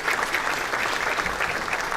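Audience applause at a city's State of the City 2015 address, a dense, steady wash of clapping from a crowded hall that holds at full strength for the whole two seconds.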